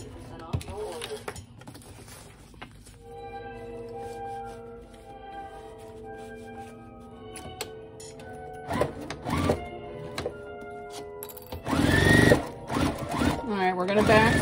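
Sewing machine back stitching a slippery lining for a car trash bag, short runs of rapid mechanical whirring broken by pauses and a louder burst near the end, with a voice talking in between.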